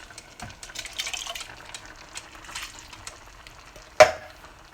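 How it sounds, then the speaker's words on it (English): Water is added to a pot of steamed cabbage and beans on the stove, giving soft irregular splashing and sizzling that rises and falls. A sharp clank of cookware sounds near the end. "To get those extra bean juice down here, we do a little bit of water in here."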